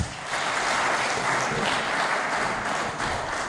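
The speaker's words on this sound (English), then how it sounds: "Another round of applause." An audience applauding at a celebration honoring HIV/AIDS work, dense steady clapping from many hands that holds at an even level from start to finish.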